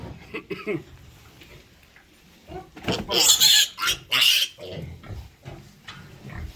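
Young pigs being weighed on a farm grunt and squeal in short, loud bursts close by, with a person talking between them.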